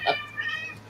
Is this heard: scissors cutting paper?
no